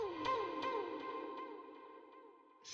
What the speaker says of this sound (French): je suis venu lier le premier delay en ping-pong, je rajoute un autre chemin, et je viens le mettre dans cette reverb-ci